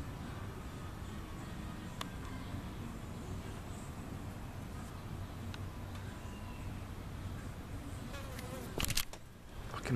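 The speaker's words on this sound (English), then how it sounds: "Fucking bugs." Insects buzzing and droning around an outdoor bench, a steady low hum filling the whole stretch, with a brief louder rustle near the end.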